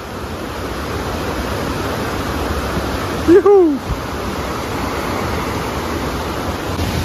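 Roaring waterfall at Salto São Francisco, southern Brazil's largest, a steady broadband rush filling the whole clip on a rocky trail, with a brief shout of excitement midway.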